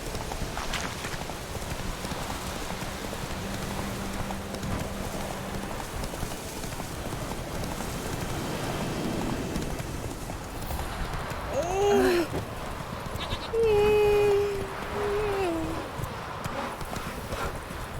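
Roach the horse gallops in The Witcher 3, hooves clip-clopping in a steady rapid rhythm throughout with a rain-like wash beneath, and a brief whinny-like tonal cry rising near the end; no one speaks.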